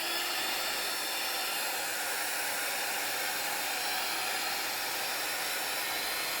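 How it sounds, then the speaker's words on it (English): A handheld heat gun blows hot air over a craft project, a steady, even whooshing hiss that holds unbroken throughout at moderate level with no speech. "So let's get this heat tool on."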